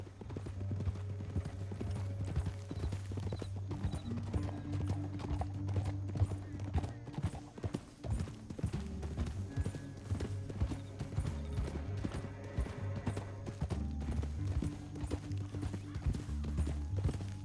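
Steady clip-clop of horse hooves in the video game Red Dead Redemption 2 at a brisk pace, loud and close, continuing throughout with a low rumbling background.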